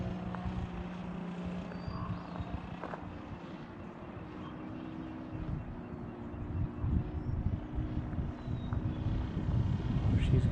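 A 120-inch Turbo Bushmaster RC model airplane flies on its maiden flight, its engine a steady drone that swells louder toward the end, with wind buffeting the microphone and faint voices in the background.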